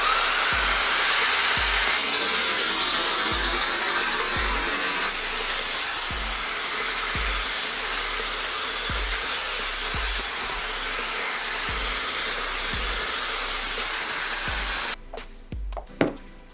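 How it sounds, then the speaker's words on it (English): A Cweixi air styler's hair dryer roars steadily on high speed with cool temperature, a broad airy whoosh and low motor hum, then clicks off near the end. "Blow dryer on high, but I'm gonna put the temperature on cool"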